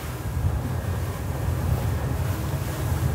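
An Axopar 37 Sun-Top Icon Edition motorboat with Brabus performance line runs at 30 knots through choppy water, its steady engine roar blending with hull slap, rushing spray and heavy wind buffeting on the microphone, loud and continuous.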